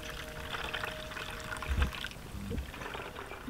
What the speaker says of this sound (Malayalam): ഇനി ഇത് നമുക്കൊരു സ്പ്രേ ബോട്ടിലോട്ട് ഒഴിച്ചു കൊടുക്കാം.